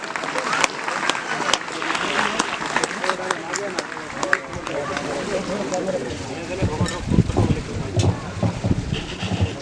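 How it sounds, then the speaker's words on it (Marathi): An audience claps at a district-level sports competition for disabled athletes, producing dense, sustained applause with a rain-like texture throughout, while a voice speaks over it partway through. "टाळ्या वाजवा जोरात."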